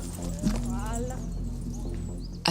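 Horse hooves clop on slick, slippery ground during a Swiss army exercise with Franches-Montagnes horses, a few distinct steps sounding close under a voice.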